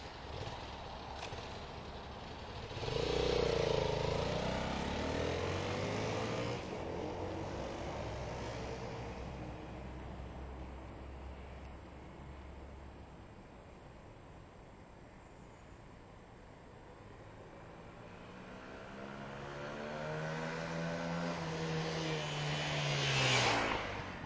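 A 125cc motorcycle accelerates through a swerve test at a motorcycle training academy, its engine rising in pitch as it passes, fading into the distance, then returning louder near the end, with no talk.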